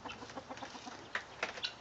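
Hens in a barn give a run of quiet, rapid clucks, with a few sharper, louder notes near the end.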